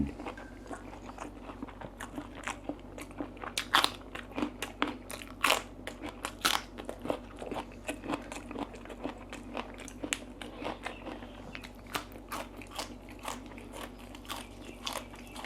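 Close, crisp crunching and chewing of stir-fried okra leaves with pork belly and rice, repeated bites and chews in an irregular rhythm with no talking.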